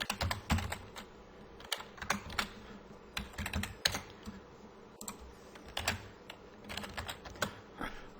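Rapid typing on a computer keyboard, close and clear, with irregular bursts of key clicks and short pauses between words, and no voices.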